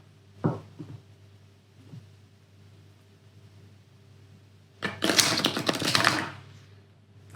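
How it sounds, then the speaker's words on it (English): A deck of tarot cards being reshuffled, with scattered faint clicks and taps and then a close, dense riffling burst of cards lasting over a second. "Let me just reshuffle my deck."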